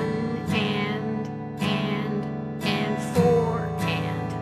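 Muted acoustic guitar strums with no chord fretted, in the strumming pattern for a song, four percussive scratchy strokes spaced about a second apart, each ringing faintly with damped string noise.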